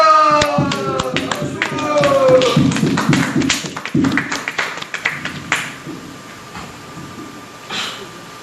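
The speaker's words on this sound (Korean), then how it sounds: "우리 이석하 목사님 나오실 때 큰 박수로 환영하시기를 부탁합니다." A church congregation in Gimcheon claps to welcome a pastor to the pulpit: dense, close applause builds strongly, then thins into scattered claps and fades within several seconds.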